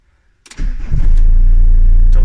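A car engine with a rattling fault cranks once, catches almost immediately and settles into a loud, steady, close-up running rumble.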